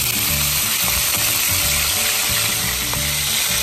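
Squid rings frying in very hot oil, a loud, dense, unbroken sizzle close to the pan with a low rumbling background hum, no voices heard.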